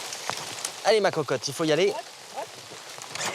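Heavy rain pours steadily while two enthusiasts struggle to load a Renault R5 onto a flatbed truck, a constant wash of noise under a voice speaking in French.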